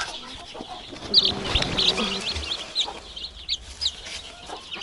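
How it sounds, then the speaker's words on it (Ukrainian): A box of young chicks from a mixed flock of domestic hens peeps in short, high, scattered calls close by, some overlapping, over a low rustling background. "Ось такий ящичок з курчатками"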